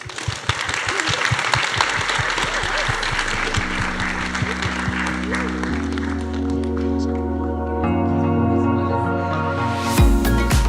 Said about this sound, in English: big clap for Queenie and Hayden